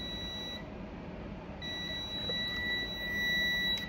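A multimeter's continuity tester sounds a steady high electronic beep as its two leads touch, holding for a moment, pausing, then sounding again with some background noise.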